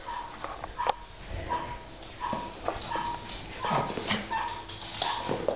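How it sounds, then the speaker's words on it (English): Several small dogs, one a six-pound female, play together indoors with scattered yips, whimpers and short barks at close range, their noises overlapping in irregular bursts. "Crazy little dogs to play with all the time?"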